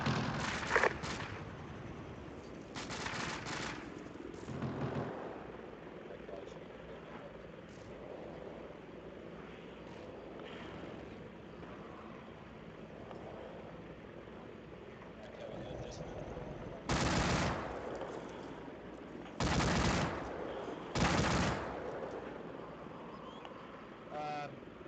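Gunfire in the Arma military game during an air assault convoy defense, with several loud bursts of shots standing out near the end over a steady aircraft engine drone and intermittent radio voices.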